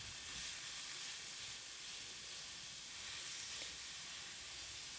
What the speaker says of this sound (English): Heat up a pan and drop in your ground beef.